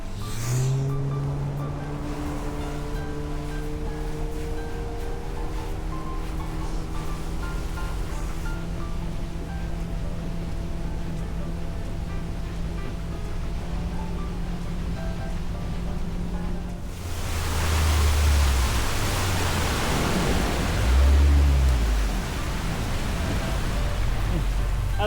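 A boat engine on the water near Bay Point drones with a steady harmonic hum, then roars as the boat planes off. A rush of wind and spray noise takes over for the final third.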